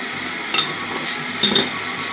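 Egg curry sizzles and fries in a pan with a steady hiss, while a few brief scraping stirs rise above it, close and clear, with no voice.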